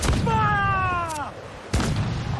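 Ship cannons fire a volley in the pirate game Assassin's Creed 4: Black Flag, with a loud broadband blast at the start, a shouted voice over a ringing tonal swoop, and then a second heavy boom.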